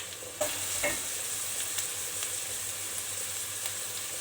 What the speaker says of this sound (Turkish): Şöyle soğanlarımı koydum arkadaşlar.